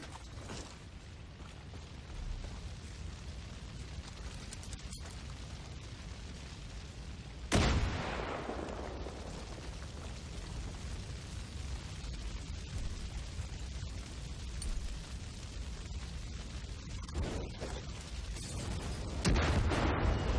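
Explosions and gunfire in the video game Far Cry 5: a dense, noisy battle backdrop with one sharp, loud blast partway through and another strong hit near the end.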